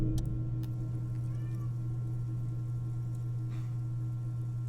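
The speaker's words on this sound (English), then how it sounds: "Letting the cat in." A cat meows at a door in the video game Disco Elysium, a few clear short meows over a steady low hum, fairly quiet and alone.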